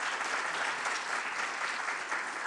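An audience at a forum session in Jeju claps in steady, dense applause throughout, welcoming a guest speaker, with no voices over it.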